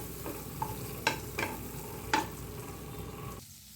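Butter heating in a pan on a low flame while being stirred, for a restaurant-style paneer butter masala: a soft, steady sizzle with a few sharper scraping clicks of the spoon, then a sudden drop to near silence at the end.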